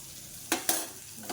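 Spices and bitter gourd frying in a pan, a quiet steady sizzle broken by two sharp stirring scrapes and a third at the end, close by, with no talking.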